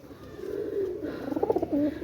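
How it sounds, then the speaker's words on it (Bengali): Teddy pigeons kept for sale coo in a low, rhythmic burbling that rises and pulses toward the end, close and clear against light background noise. "এই আরেক জোড়া কবুতর দেখেন"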